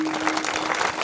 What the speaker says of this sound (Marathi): त्या सगळ्यासाठी एकदा टाळी वाजवायची आहे